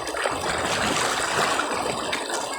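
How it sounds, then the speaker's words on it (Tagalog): Strong river current rushes in a steady broadband wash, loud and close, with no talk over it. "Solid ang agos."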